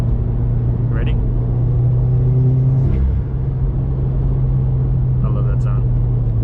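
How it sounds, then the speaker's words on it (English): A modified 2017 Subaru WRX with full bolt-ons on E85 accelerates on a canyon road, its intake and engine making a steady, loud drone with a pitch shift partway through, heard from inside the car. "The noises you're hearing are just from the intake."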